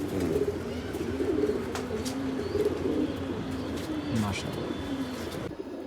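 A large six-year-old tournament racing pigeon coos in low repeated throbbing phrases close by, while someone talks over it and faint chirps sound in the background.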